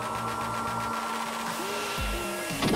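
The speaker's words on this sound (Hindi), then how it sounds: "उसका ड्रायर उसकी मदद कर सकता है। इसे सुखाना शुरू करो।" A hair dryer blows steadily on wet socks, a continuous loud whirring hum with a few tonal shifts toward the end.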